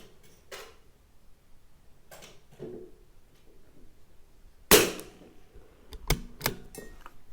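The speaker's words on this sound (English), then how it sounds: "Okay, now I'll shoot one at the dead center." A CZ457 rimfire rifle fires a single sharp shot at an outdoor range, followed by a couple of quieter clacks from the action, with low background hush before the shot.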